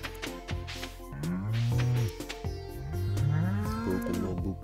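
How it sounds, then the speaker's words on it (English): Cows in the Stardew Valley farming game give two drawn-out, low moos one after another, each sliding in pitch, over a quiet game soundscape with no talking. "Yes, yes, moo. Moo, moo, moo. I understand."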